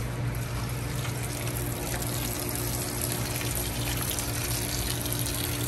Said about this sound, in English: We're just pushing that water down in there,